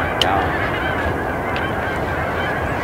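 Canada geese honking in flight during an opening-day goose hunt in Colorado, a steady chorus of calls over constant outdoor noise, distant and fairly faint with a few sharper nearer honks.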